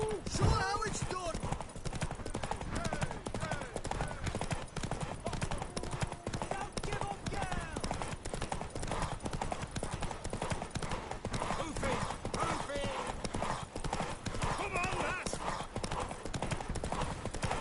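Steady clip-clop of horse hooves in The Witcher 3: Wild Hunt runs throughout, with a brief whinny near the start and voices talking over the rhythmic trotting.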